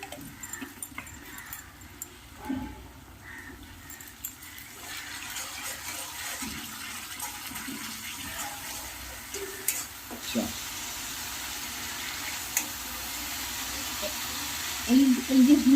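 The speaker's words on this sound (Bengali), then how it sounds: "ভেজে নিয়ে এবার একটু নিয়ে জল দেবো।" Water mixed with ghee is poured into a pan of frying tomatoes, setting off a sizzle that swells and crackles toward the end after quieter kitchen clatter, while a person talks over it.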